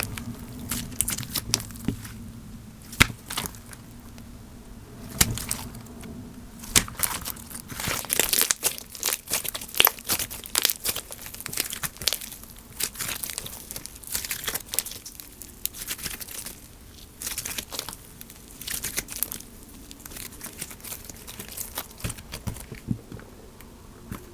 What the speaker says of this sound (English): The slime does still produce walkie pops and other forms of bubble pops